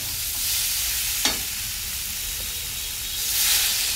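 Gravy liquid poured into fried fish masala in a pan, a steady sizzling hiss with one sharp splash-like burst partway through and a louder steam surge near the end, no voices.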